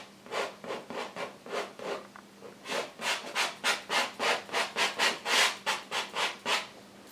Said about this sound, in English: I'm just rubbing in the base coat, and then we'll come back and highlight.